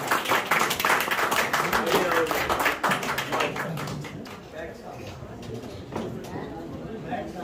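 An audience at a mushaira, an Urdu poetry evening, claps for a poet coming to the stage. The applause is dense and loud at first, then thins and fades over several seconds, with voices mixed in.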